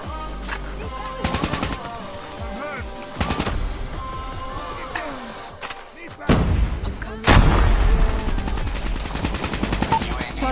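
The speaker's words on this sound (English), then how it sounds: "Predator missile inbound." Explosions and bursts of gunfire from a Predator missile strike in the Call of Duty Mobile shooter game, with loud booming impacts around 1, 3, 6 and 7 seconds over continuous rattling gunfire.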